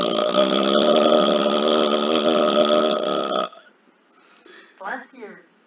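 A man lets out a long, loud, voiced burp lasting a few seconds, close and dominant, followed by a short pause and then brief quiet speech from people chatting on a webcam call.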